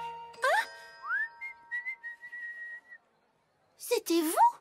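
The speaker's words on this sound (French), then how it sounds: "j'adore siffler en travaillant" A cartoon character whistling while working, a bright melodic whistle with rising and sustained notes between short bursts of animated speech.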